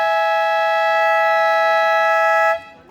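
A basketball game buzzer blares for a timeout, a loud steady electronic tone held for about two and a half seconds before cutting off abruptly.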